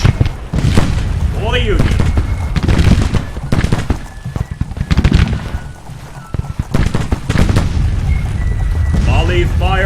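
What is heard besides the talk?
artillery and rifle volley fire in Civil War video game Grand Tactician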